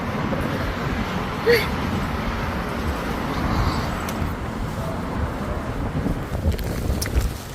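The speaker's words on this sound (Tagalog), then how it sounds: "sobrang lakas ng hangin." Strong winter wind in Taiwan roars and buffets steadily throughout, with rumbling gusts and occasional faint knocks.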